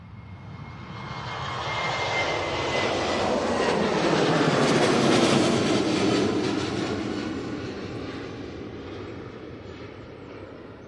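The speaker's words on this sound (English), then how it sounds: "We've got this Ryanair now on the roll." At Manchester Airport, a Ryanair airliner rolls down the runway and takes off, its jet engine roar swelling steadily to a loud peak and then fading slowly as it climbs away.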